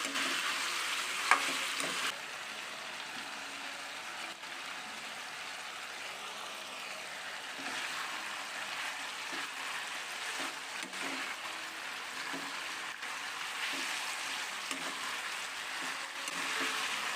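Beef pieces sizzle and fry in oil in a pan while being stirred, a steady crackling hiss with soft scraping from the stirring throughout, close and moderately loud, with no talking.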